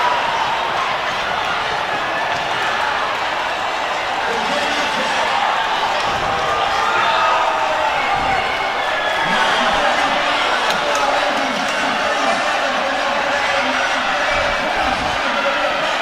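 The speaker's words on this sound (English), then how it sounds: "The crowd here is loving this." At an indoor track meet, a large crowd in an arena roars and cheers steadily through a distance medley relay final, loud and sustained, with a commentator talking over it.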